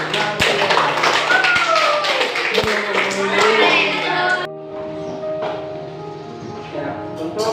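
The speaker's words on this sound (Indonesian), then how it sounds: "kita berikan aplaus untuk" Classroom of students clapping for a classmate's correct answer, a burst of many close hand claps with children's voices mixed in, then dropping off abruptly to quieter room noise with scattered faint taps.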